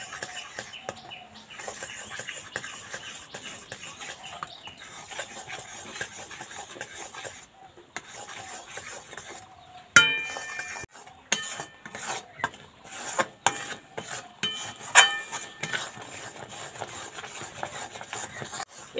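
Gram flour being stirred into sugar syrup in a pan, heard as soft scraping and intermittent clinks of a spoon against the pan, with light background chirping and a few sharper knocks midway.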